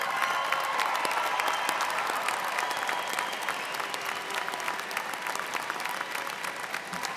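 A large commencement audience at a university liberal arts ceremony applauds honors scholar candidates, a dense steady roar of clapping that fades slightly over seven seconds.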